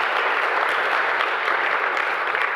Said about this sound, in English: I'd like you all to please just give yourselves a round of applause